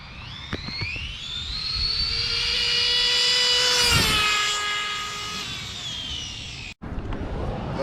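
An Arrma Kraton RC car on 6S graphene batteries makes a speed pass, its whine rising in pitch as it approaches, peaking loudly up close, then sliding lower as it races away, followed by an abrupt cut and outdoor rumble.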